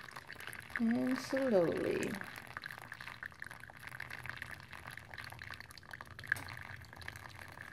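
Water poured slowly and carefully over coffee grounds while brewing without a coffee pot: a soft, steady trickle that runs through the whole stretch, with someone briefly talking near the start.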